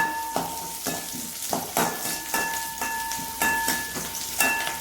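Cashews, ginger and garlic fry in a pan for an okra gravy, a steady sizzle broken by regular scraping stirs about twice a second, close and clear with no voices.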